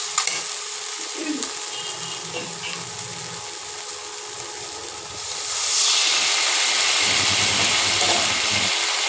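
Water is poured into a hot pan of frying paneer curry, and a steady sizzle swells abruptly into a louder, broad hiss of steam that continues to the end.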